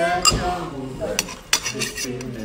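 Tablespoon clinking against dishes, a few sharp close metallic clinks and scrapes spaced unevenly amid soft kitchen clatter and a faint tonal background.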